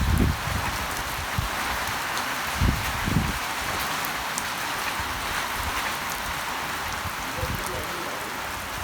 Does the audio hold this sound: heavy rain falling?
yes